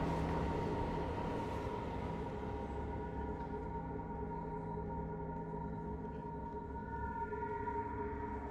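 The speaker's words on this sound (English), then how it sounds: "the Elizabeth Line Western Railway tunnel runs right under the" A steady low rumble of an Elizabeth Line train running through a tunnel beneath a yard in Holborn, London, continuous and fairly faint, with a faint sustained tonal hum above it.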